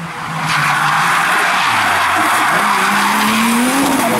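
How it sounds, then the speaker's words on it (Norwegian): A Volvo race car brakes hard into a corner at the Norefjell hill climb, its tires skidding and squealing loudly for several seconds over a steady engine drone. "Kommer her med sin Volvo, bremser seg inn her nå."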